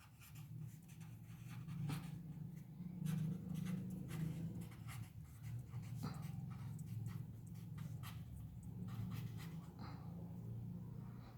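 A pen scratches out handwritten notes during an anatomy lesson about the heart, with short strokes and pauses repeating across the span, soft and close, with no talking.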